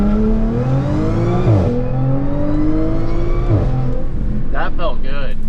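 A supercharged car launches from the brake with its wheels spinning, a loud, close engine roar that climbs in pitch, drops briefly and climbs again.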